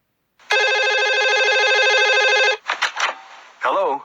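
An office telephone rings with a steady warbling electronic trill lasting about two seconds, loud and close, followed by a voice answering.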